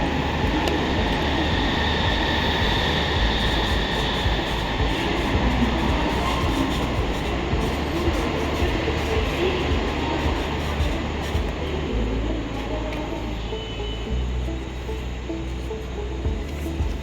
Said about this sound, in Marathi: आपण आता लोकल ट्रेन पकडण्यासाठी स्टेशनवर वेट करतो आहे. चर्चगेट ट्रेन लागलेली आहे इकडे.